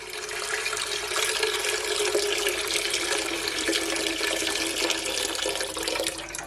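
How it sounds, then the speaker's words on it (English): Warm water runs steadily from a kitchen tap into a pot being filled halfway for boiling a ham, a continuous close, loud rushing splash with no talk. "So guys, I'm gonna firstly add some water,"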